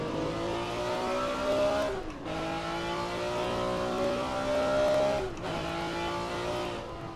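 A light GT Legends-era race car in Assetto Corsa revs hard through the gears, a loud, steady engine whine rising in pitch twice with brief dips at the shifts, alone with no talk.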